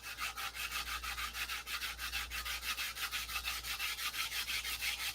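Hand sanding of a balsa P-47 model airplane fuselage makes steady rhythmic back-and-forth rasping strokes, about three per second, close and even throughout with a low hum beneath.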